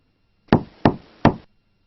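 Three firm knocks on an office door, evenly spaced and close by, followed by silence with no voices.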